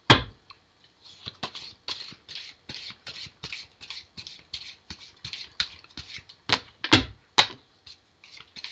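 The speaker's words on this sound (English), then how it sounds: "I gotta give these a good shuffle for you." A deck of reading cards being shuffled by hand at close range: a steady run of crisp riffling bursts, roughly two per second, with a few louder snaps near the end and no talking.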